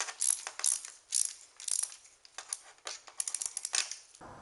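A ratchet tightens 1/4-inch stainless steel bolts with lock washers and nuts during an EFI kit install on a Kawasaki Ninja 250, making close, rapid clicking runs repeated in several bursts with no voices.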